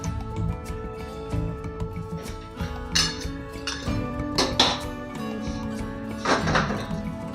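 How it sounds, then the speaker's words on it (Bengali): A lid clanks down onto a pot of chicken curry cooking in its own juices, one of several brief metallic knocks and clinks against steady kitchen background noise. "আমি এখন ঢাকা দিয়ে কিছুক্ষণ বাদে আসছি।"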